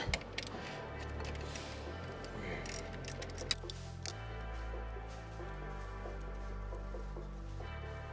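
Ratchet wrench with a 12 mm socket backing out a bolt on a 2008–2021 Subaru STI, close clicking ratchet strokes over a low steady hum, continuous throughout.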